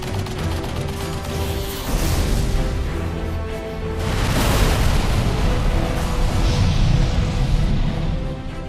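Cannon and artillery fire in the War of the Worlds: Goliath battle: heavy booms and crashing blasts rolling one into another, loud and continuous, swelling again midway.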